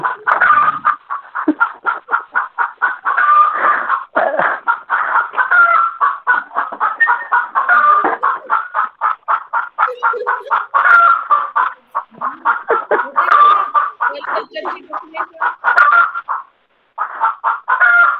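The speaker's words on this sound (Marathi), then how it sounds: "हा इथं कोंबड्या ताप देतात मॅडम." Brooding hens cluck in a rapid, steady stream of loud, close calls with only brief pauses, kept up throughout; no speech.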